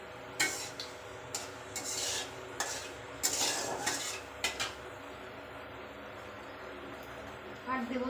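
Whole cardamom, cloves, cinnamon and cumin tumble into a pan for potato curry, making a few quick clinks and rattles against the metal followed by faint scraping and a low hiss, with someone speaking over it.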